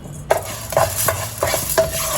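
Dry toor dal being roasted in a pan is stirred with a spoon, giving a faint background sizzle and a series of five or six scraping, clinking strokes against the metal, close and with no talk.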